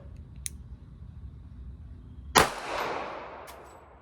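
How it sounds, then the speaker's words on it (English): A Beretta Tomcat pistol fires a single sharp shot at a target, close and loud with a quick decaying echo, after a couple of small mechanical clicks and no talking. "a double-action trigger pull away from emptying out your gun and having access to all 8 rounds now"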